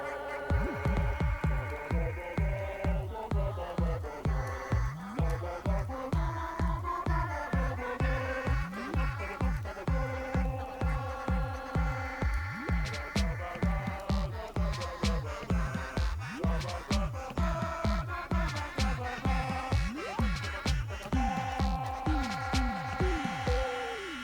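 Frog band in the Link's Awakening video game performing Mambo's song, a steady bouncing bass rhythm under layered synth chords and melody, continuous and moderately loud.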